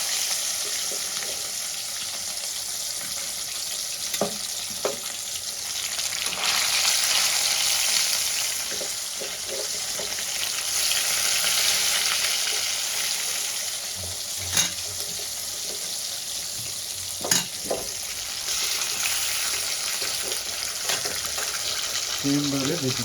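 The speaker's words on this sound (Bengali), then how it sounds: "এরকম লাল লাল করে ভেজে নেব।" Katla fish pieces fry in oil with a continuous close sizzle, with a few sharp clinks and scrapes of a utensil now and then. A faint voice may be heard briefly.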